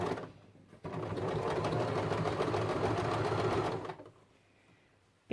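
A sewing machine stitches velour in one continuous run of rapid, even mechanical chatter for a few seconds, then stops, leaving quiet room tone.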